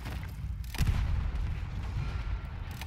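Artillery fire in the Battlefield 1 game, a distant, muffled boom that thumps once, followed by a low rumbling background of further dull blasts.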